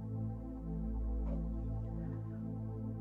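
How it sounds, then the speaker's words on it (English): A soft, sustained synth Warmth pad drones with warm low tones and a faint swelling shimmer, steady and quiet throughout. "So let me put this Warmth pad and just listen to what it sounds like"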